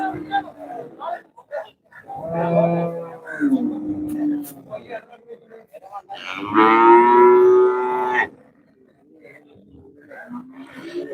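Deep, drawn-out lowing from water buffalo, two long calls close by, mixed with other moos and voices at a busy outdoor cattle market in Manjeri, Kerala.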